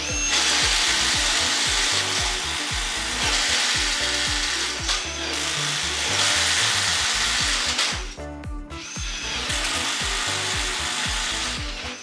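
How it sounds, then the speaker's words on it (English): A subcompact cordless drill bores a 1/2-inch titanium twist bit into standard 2x lumber, giving a loud, continuous grinding whir with a rapid chattering texture as the bit chews through the wood. The tone briefly dips near the end before the drilling resumes. "we're gonna do a 1/2-inch titanium twist bit in this standard 2x lumber"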